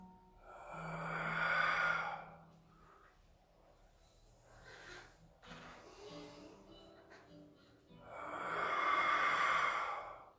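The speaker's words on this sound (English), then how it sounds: "Breathing out. Breathing in as we come up." Slow, deep breaths during a tai chi exercise: a long audible exhale, a quiet stretch with faint breathing, then another loud sighing breath, heard up close with no talk.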